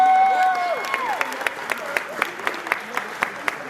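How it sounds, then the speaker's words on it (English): Crowd at a high school football college signing day breaking into applause, with a few voices and a cheer at the start that give way to a run of sharp, evenly spaced hand claps close by. "I just want to give another hand clap for these young men."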